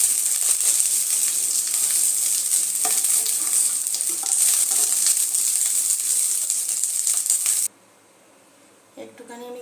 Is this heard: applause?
no